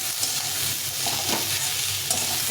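Cumin powder and a little chili powder frying in a pan for a pumpkin-greens curry, a steady close sizzle with stirring scrapes throughout, no talking.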